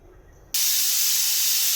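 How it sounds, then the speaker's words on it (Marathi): A pressure cooker cooking Khandeshi masala rice suddenly lets out its whistle, a loud, sharp, continuous jet of hissing steam that starts abruptly after a quiet moment and holds steady to the end. "मस्त आपल्या कुकरच्या 3 शिट्ट्या झाल्या आहेत"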